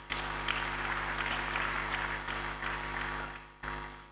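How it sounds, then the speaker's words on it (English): Audience applause for Lagos State governor Babajide Sanwo-Olu at a security town hall meeting, a steady broad wash of many hands clapping throughout, dipping briefly near the end. "Please, a round of applause for the governor,"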